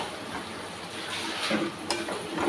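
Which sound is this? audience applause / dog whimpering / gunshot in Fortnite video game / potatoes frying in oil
potatoes frying in oil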